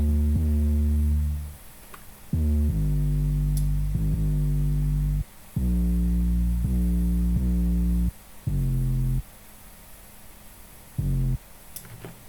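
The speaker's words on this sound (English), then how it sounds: "I also put some distortion and some EQ" Heavy, distorted, EQ-boosted 808 sub-bass notes boom in a repeating pattern, each sustained with a buzzy, gritty edge, separated by short gaps of silence.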